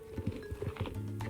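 Horses in a horse-riding video game trot with a quick, busy clip-clop of hooves and a faint whinny, soft and low in level, with a steady background beneath.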